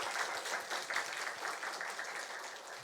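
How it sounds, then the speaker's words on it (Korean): A church congregation at Sunday worship claps warmly to welcome a visiting pastor and members. The clapping is brisk and continuous, moderately loud, and runs alone without speech. "우리 한번 큰 박수로 환영하겠습니다."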